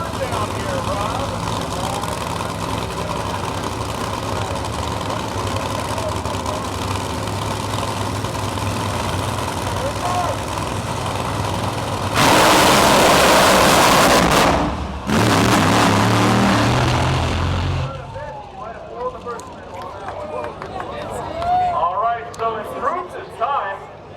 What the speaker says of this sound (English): These are the nitro race cars.